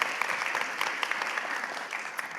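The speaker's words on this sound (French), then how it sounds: "Vous pouvez applaudir." Steady, dense applause from an audience, continuous and fairly loud throughout, with no voices standing out.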